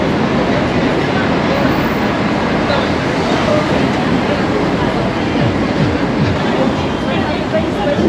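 A train rumbles past at a station in Portugal, loud and close, a continuous roar with faint rail clatter throughout.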